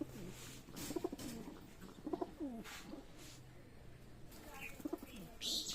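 Soft, low pigeon coos repeat a few times against a quiet room background, with light rustling and a brief bright chirp near the end.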